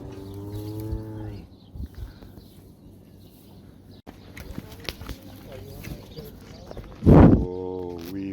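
Cows moo close up in a field, with deep, drawn-out calls at the start and again near the end. A loud thump and rustle sound as one nuzzles and licks a phone held up to it.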